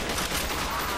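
Continuous rapid gunfire from a gun in the Black Ops video game, a dense, loud burst of automatic shots running through the whole moment with no gaps.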